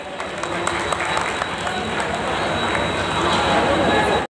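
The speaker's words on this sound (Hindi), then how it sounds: "उनका जोरदार तालियों से स्वागत किया जाए" An audience at a rail workers' Ambedkar birth anniversary gathering claps loudly to welcome a former mayor, a dense, sustained burst of hands that holds steady for several seconds before cutting off abruptly.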